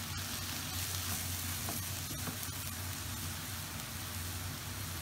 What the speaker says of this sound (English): add in about 2 crushed garlic cloves, and we want to stir that through as well